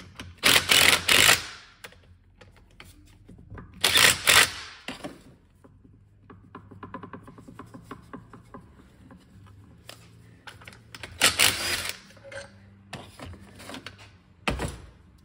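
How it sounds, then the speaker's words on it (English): A light impact wrench snugs up differential carrier bolts on a GM 10-bolt limited-slip axle in several loud hammering bursts, separated by quieter clicks and handling of parts, close up. "Snugging these up with a light impact will pull that carrier the rest of the way in and kind of seat it."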